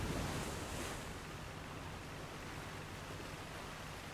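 Ocean waves in the video game Age of Water: a continuous, hissing wash of surf, slightly stronger at the start and then steady.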